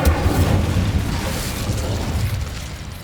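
Incendio fire spell cast in the video game Hogwarts Legacy, a loud rushing burst of flame with a deep rumbling low end that holds steady for a few seconds before easing slightly.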